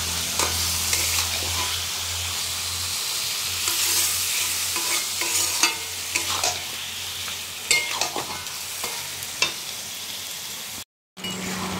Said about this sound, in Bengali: মাংসটাকে ভালো করে কষিয়ে নেব